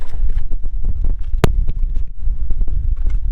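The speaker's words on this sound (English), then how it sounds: "that wind's getting pretty nasty out here" Gusty outdoor wind buffets the microphone beside a 2022 Kubota MX6000 tractor, a loud, uneven low-end rumble with irregular thumps and one sharp crack partway through, and no talking.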